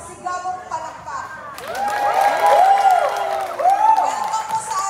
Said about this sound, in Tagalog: Bigyan po natin ang ating mga sarili ng isang masigabong palakpak.